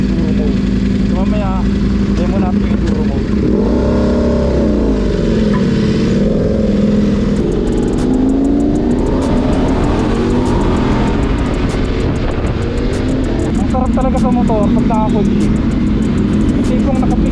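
A Voge 900 DS adventure motorcycle engine revs up in rising and falling sweeps, loud and close, under steady talk throughout.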